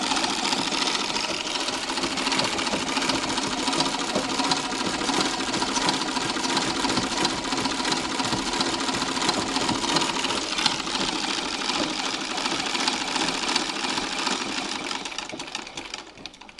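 Treadle sewing machine with freshly repacked ball bearings on the pitman rod, running alone with a steady whirring, rapid clatter at moderate volume, close by, fading slightly at the end.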